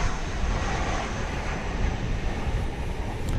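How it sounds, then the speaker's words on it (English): An Airbus A321neo airliner at DFW Airport, a steady distant jet roar with broad airy rumble, continuous and even throughout, no voices. "It's an Airbus A321 Neo."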